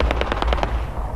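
Rapid automatic gunfire in Fallout 76 rattles off about six evenly spaced shots in quick succession, loud and punchy, with no talk.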